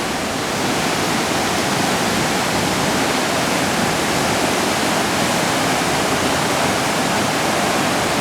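Floodwater on the Right Fork Holly River in Webster County, West Virginia, rushes over a waterfall that is submerged under the high water, making a loud, steady, unbroken roar with no other sounds.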